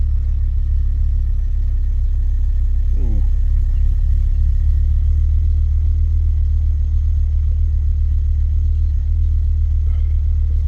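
A freshly rebuilt Ford Focus ST225 engine idles steadily on its first start with a deep, constant rumble, loud and close, running alone without revving.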